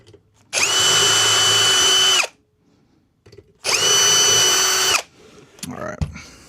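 A power drill fitted with a 1/8 inch bit whines at high speed in two sustained bursts of about two and one seconds, loud and close, separated by a pause, followed by faint handling clatter.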